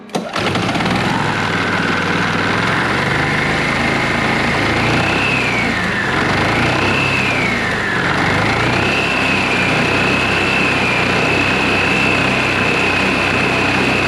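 A TurfMate small engine runs on choke after its carburetor was cleaned, a loud, steady high-pitched drone that wavers briefly in pitch before settling at a constant speed, close and continuous with no talking.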